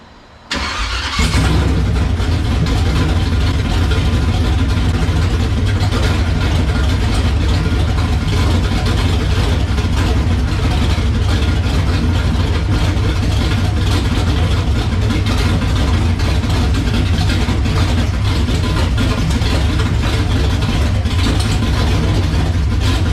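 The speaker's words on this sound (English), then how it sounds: "it should be good enough to idle it until we got fuel up to it" A 1971 Chevrolet Chevelle engine cranks and catches, then settles into a loud, steady, rumbling idle close by that runs without a break for over twenty seconds.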